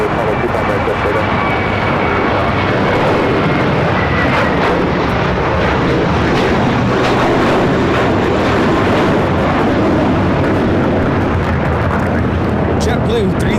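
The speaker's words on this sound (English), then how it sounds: "JetBlue 324 taking off to JFK on this A321" A JetBlue Airbus A321 jet taking off at LAX, a loud, sustained engine roar and rumble filling the whole stretch at close range.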